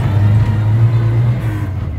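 A 1969 Morris Minor panel van in stunning condition pulls away on a test drive, its engine a loud, steady low drone heard from inside the cab, easing off slightly toward the end.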